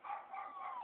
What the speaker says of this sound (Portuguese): Nunca vi cachorro subir na escada.